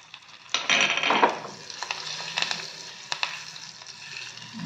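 Sesame seeds and slit red chillies with curry leaves frying in hot oil, a steady close sizzle with crackling bursts and a few scraping stirs, no voices.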